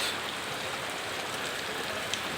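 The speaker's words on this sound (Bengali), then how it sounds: "প্রচুর বৃষ্টি হচ্ছে" Heavy rain falls in a steady, dense hiss of drops on surfaces, unbroken and even throughout, with no voices.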